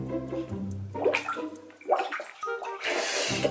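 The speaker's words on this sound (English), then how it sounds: "I'll put my face into the water for another 10 seconds." A face dips into a bowl of carbonated water, making gurgling, bubbling splashes in short bursts up close, then ending with a rushing fizz of spray.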